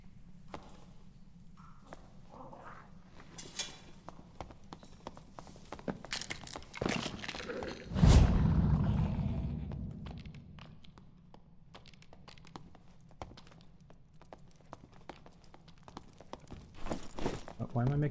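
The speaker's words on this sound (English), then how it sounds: "Why am I making footstep sounds?" Player character's footsteps in the video game Dark and Darker, a steady run of soft taps and crunchy steps that swell into a louder scuffing burst midway, with talk over them.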